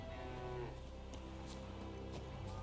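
Cattle mooing in The Witcher 3 video game, a sustained low lowing call that overlaps a continuous game ambience background, moderately loud with no voices.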